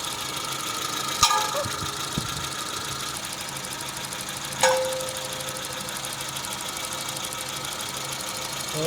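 A Suzuki Samurai engine idles steadily with a constant mechanical hum and a few sharp clicks or knocks during an ignition timing check, heard close and unbroken for the whole stretch.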